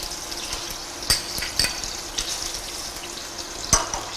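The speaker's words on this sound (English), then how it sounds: "the garlic, which you're going to allow to braise for a while" Garlic frying in a pot at the start of a chicken neck and gizzard curry, a steady close sizzle with a few sharp clinks and stirring knocks from a utensil against the pot.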